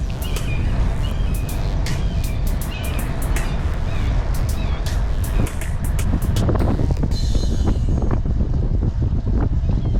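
Strong wind buffets the microphone of a cyclist riding a lumpy road in cold weather, a loud continuous roar with gusty bursts and rattling throughout, no talking.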